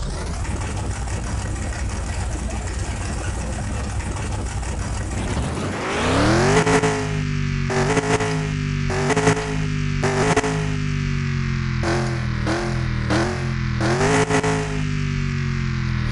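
In the Car Mechanic 2021 video game, a high-performance car's engine starts after a steady hum, then idles and revs up several times in repeated surges, loud and with no talk over it.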